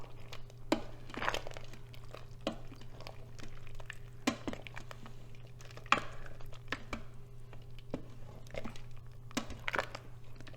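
Pasta being stirred in an Instant Pot after pressure release, with scattered scraping and clunking of a utensil against the pot over a steady low hum, moderately close and with no speech.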